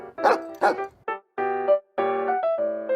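A group of dogs on a street in China barking, several close, loud yips and barks followed by longer whining, howling calls in steady succession.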